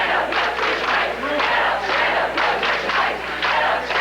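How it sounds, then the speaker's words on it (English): A noisy crowd of student protesters demonstrating over a tuition hike at a university, calling for the president's ouster; many voices shout and chant together in a dense, sustained roar. "that sparked a noisy protest by some students who called for the ouster of university president Edward Blaustein."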